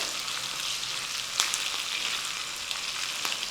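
Steady sizzling and crackling of a spice tempering with curry leaves frying in a hot pan, with a few sharper pops breaking through the continuous hiss.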